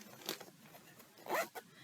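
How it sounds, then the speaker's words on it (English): Zipper on a printed-fabric Genshin Impact cosplay costume, a few faint quick zipping rasps, the clearest one near the end, heard close and quiet with no talk. "It's attached with a zipper."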